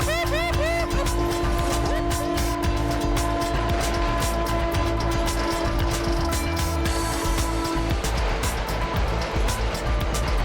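Old train rattling and clanking along rusty rails in Cuba, a loud, continuous mechanical clatter with steady engine drone and irregular metallic knocks throughout.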